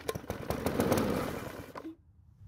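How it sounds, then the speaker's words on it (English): A Powersmart lawnmower engine with fuel poured into the carburetor makes a feeble test start: a few sputtering pops build into a brief, rough burst of running for about two seconds, then die out abruptly into near silence. "that must have been the lamest test start I've ever heard from a lawnmower engine"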